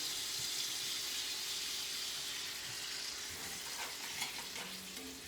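Heavy cream poured into a hot pan hisses in a broad, steady sizzle, with faint stirring scrapes and light clinks near the end; no one speaks.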